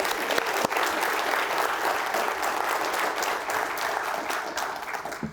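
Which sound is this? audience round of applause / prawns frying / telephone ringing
audience round of applause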